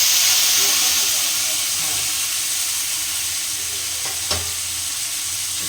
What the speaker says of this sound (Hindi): हम टमाटर को फ्राई कर लेंगे